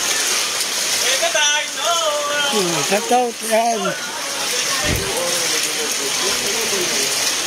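Strong ocean waves make a steady, broad roar near the shore, with a voice speaking loudly over the continuous surf.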